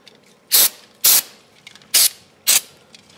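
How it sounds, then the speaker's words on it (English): Cleaner is sprayed onto a part of a Kubota RTV 900 CV axle in four short, sharp hissing bursts spaced about half a second apart, close up in a quiet space. "I'll probably spray that off."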